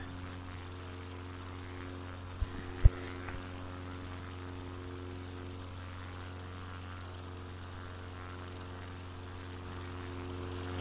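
A propeller airplane engine in Microsoft Flight Simulator 2020 gives a low, steady buzzing drone throughout, fairly quiet and constant, with a couple of faint clicks near the start.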